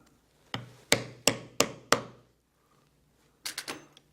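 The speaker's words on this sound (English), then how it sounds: "we'll set this rivet." A metal setter struck with a hammer to set a rivet through damp leather on a corset: five sharp, evenly spaced blows, a quiet pause, then three quicker, lighter taps close by.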